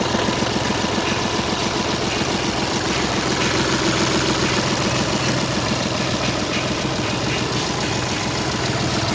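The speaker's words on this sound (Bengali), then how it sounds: "সেই সাউন্ডটা তোমরা শোনো শুধু গাড়িটা কেমন সাউন্ড আসছে" A diesel car engine idling in fine condition, a steady, even rumble with a faint knocking pulse, held close and constant throughout with no voices.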